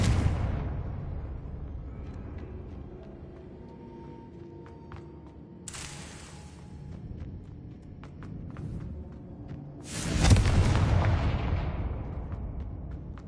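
Confringo fire spell blasts in Hogwarts Legacy go off as a loud booming burst at the start and another at the end, with a smaller crack midway and rumbling decay between them, no voices.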